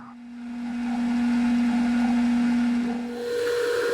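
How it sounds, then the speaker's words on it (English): A metal lathe turns while a workpiece for an all-thread holder is step drilled. A steady humming drone with a clear sustained tone runs throughout, and the pitch shifts slightly near the end. "I step drill it."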